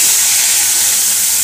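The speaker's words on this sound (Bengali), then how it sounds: "শুকনো লঙ্কা ফোড়ন দেবো।" Dried red chillies dropped into hot oil sizzle with a bright, steady hiss, close and fairly loud, no speech.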